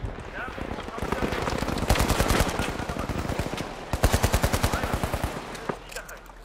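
Rapid bursts of gunfire in the video game The Finals, coming in fast repeated volleys that swell and break off, with voices talking over parts of the action.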